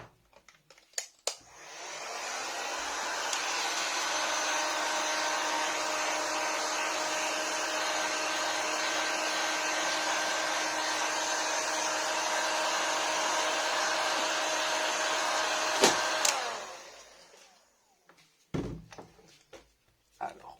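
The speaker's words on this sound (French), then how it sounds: "On va devoir enlever tout l'arrière avec le pistolet à air chaud" A heat gun blows hot air onto the back cover of a Samsung A5 2016 phone during repair, a steady loud whooshing hum running for about fifteen seconds between a few clicks and knocks at the start and end.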